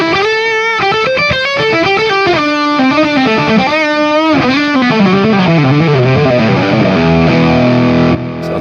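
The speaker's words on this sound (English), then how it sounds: "just a little bit harder sounding distortion" Heavily distorted electric guitar through a TC Electronic Nova System with distortion and a bit of delay, playing a sustained, bending melodic line, thick and saturated, ringing out alone.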